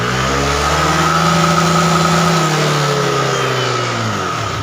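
Yamaha Aerox scooter engine revved hard at full throttle, a loud, close, continuous roar with steady pitch that eases slightly near the end, no voices.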